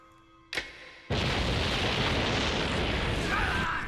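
A loud blast from a building explosion in the Death Note anime, with a brief crack followed by a sustained roaring rumble that fills the rest of the moment.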